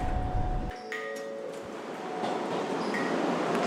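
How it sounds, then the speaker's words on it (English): A Red Line subway train bound for Braintree pulls into the station with a rumbling roar, squealing brakes and rising track noise that builds as it arrives. "the next Red Line train to Braintree is now arriving"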